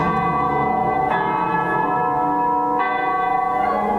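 Church bells ring out from a monastery clock, loud and close, with rich sustained overtones and fresh strikes layered over the lingering hum, about three strokes in four seconds.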